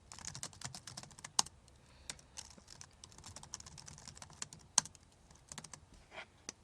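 Quick typing on a computer keyboard while writing code, a quiet, close run of soft clicks in irregular bursts with a couple of sharper key strikes standing out.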